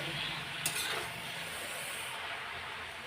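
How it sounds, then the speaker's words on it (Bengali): Chickpea dal with dry red chilli and five-spice being stirred and fried in a pan, a continuous close sizzle with a brief clink of the spoon early on. "এখন নাড়াচাড়া দেবো"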